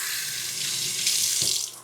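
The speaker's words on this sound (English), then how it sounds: "Just a little water, just like I ran out of the sink like that." Water runs from a kitchen sink tap in a steady hiss and splash, close and moderate, cutting off near the end, with no talk over it.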